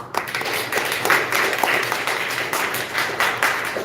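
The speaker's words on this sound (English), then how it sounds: "So let's give everybody and yourselves a round of applause" An audience at a startup event breaks into sustained applause, a dense wash of many hands clapping continuously at moderate loudness.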